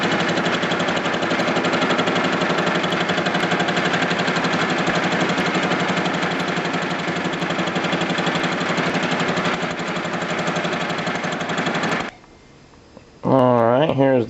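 Milling machine cutting a 1 inch spacer for a transmission mount, a loud, dense, rattling machining drone running steadily for about twelve seconds before stopping, followed by a short pause and then someone talking.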